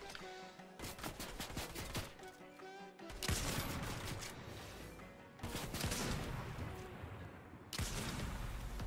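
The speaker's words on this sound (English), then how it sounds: "There's people shooting us from the left." Fortnite gunfire in repeated rapid bursts and volleys, some close and sharp, others fainter, with no one talking.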